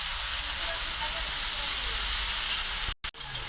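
Chopped tomatoes hit hot oil in a pan for a meat curry, giving a loud, steady sizzle that fills nearly the whole stretch before cutting out briefly near the end and returning.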